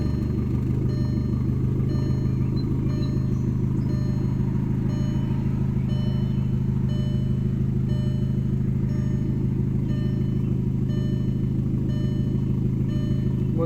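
A VW Jetta 1.8T with a newly replaced dogbone mount idles steadily, its low engine hum and faint clatter constant and close, with no talk.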